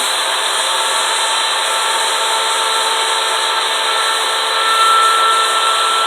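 A handheld rotary carving tool cuts fine detail around an inset letter in a wooden sign, producing a loud, steady high-pitched whine up close with only slight changes in load.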